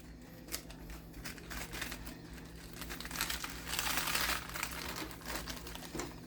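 Crisp lettuce leaves, kept a week and still crunchy, folded by hand up close: dense crinkling and crackling that builds to a louder burst of crunching near the end, no voices.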